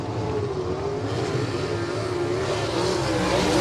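Race cars start a heat at Winston Speedway with a dense, continuous engine roar close by, pitch climbing toward the end as the field accelerates, with no talking.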